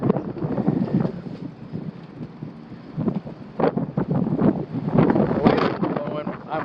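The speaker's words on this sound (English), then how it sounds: "It's loud out here, the wind's blowing." Loud gusty wind buffets the microphone outdoors in Central Texas, rumbling and fluttering steadily with surges, while a person talks over it.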